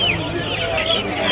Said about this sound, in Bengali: এগুলো কি মুরগি ভাই? অনেক বড় আকারের মুরগি এগুলো।